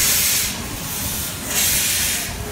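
Steam hisses loudly and steadily from a steam engine at the Hesston Steam Museum, a continuous broadband rush that swells in two or three surges, with no talking.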